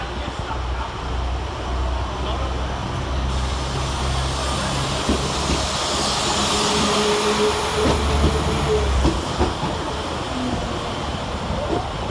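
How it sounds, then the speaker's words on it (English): Northern class 195 diesel unit 195004 pulling out of Sheffield railway station on a Leeds to Nottingham service, a steady loud rumble of engine and wheels with rising tones, no talk. "our final train is 195004, departing with 1607 Northern service from Leeds to Nottingham via Alfreton"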